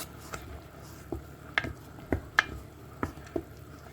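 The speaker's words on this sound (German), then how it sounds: "Und das Ganze wird dann einmal schön umgerührt." A spoon stirs pureed tomatoes in a pot of tomato sauce on a lowered stovetop, giving soft wet scrapes and knocks against the pot in an irregular rhythm, close and fairly quiet.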